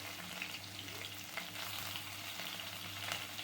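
Green chillies fry in hot oil with mustard seeds and cumin, giving a close, continuous crackling sizzle with fine pops and no voices.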